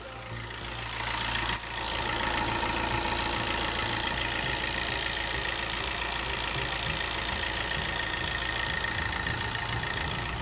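A Chevrolet Enjoy diesel engine idles just after starting, a steady, loud mechanical clatter with a low rhythmic throb that settles in after the first second and holds evenly throughout.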